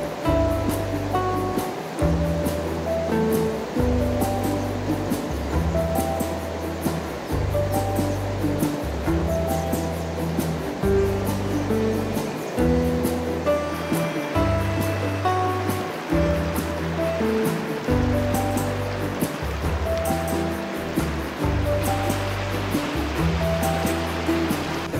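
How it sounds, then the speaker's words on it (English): Spring water runs near a roadside crucifix in the Carpathian mountains near Synevir. The continuous rushing flow lasts throughout the clip, with steady rhythmic low tones underneath and no talk. "There's a spring with water here near this crucifix"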